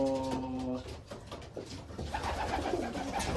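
Racing pigeons coo in low, rounded bursts close by, repeating throughout while soft rustling and faint background activity carry on around them.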